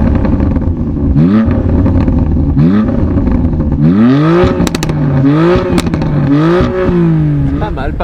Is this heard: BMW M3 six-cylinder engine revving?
yes